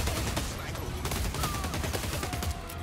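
Rapid volleys of gunfire in the shooter game EvilVEvil, loud and close, with sharp repeated shot transients over a dense game soundscape and a voice talking partly underneath.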